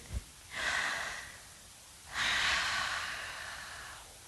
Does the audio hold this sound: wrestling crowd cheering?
no